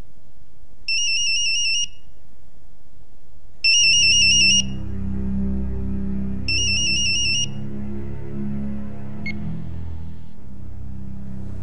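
An electronic ringtone chimes in three short repeated bursts, with a low hum and background noise rising between rings.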